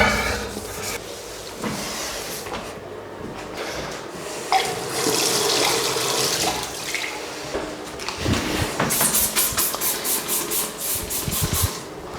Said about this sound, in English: We'll just give this a little rinse under the tap.